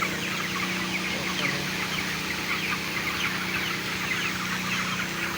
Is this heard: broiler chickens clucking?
yes